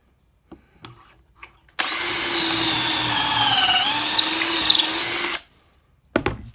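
A power drill bores a hole in wood through a drill jig, a steady whirring whine that lasts several seconds and dips slightly in pitch under load. Soft knocks and handling sounds come before and after.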